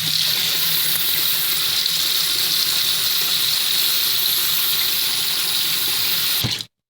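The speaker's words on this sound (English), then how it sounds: "So I'm about to play some water noises." Steady running water pours from a tap into a sink, a close, continuous gushing hiss that holds evenly throughout, then cuts off abruptly near the end.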